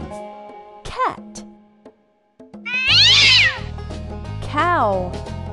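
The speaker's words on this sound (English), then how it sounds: "Cat." Several cat meows: two short ones, then a long loud one and another, the later ones over a background music beat.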